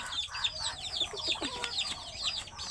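Several desi village chickens cluck and chatter close by in a continuous, overlapping stream of short calls, with no one talking.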